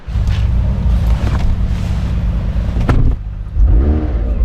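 A McLaren 720S Spider sports car is started with its roof down, then the engine revs loudly and close, with a deep roar, a sharp blip near the end and the burble settling between revs.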